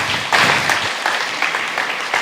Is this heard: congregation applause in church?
yes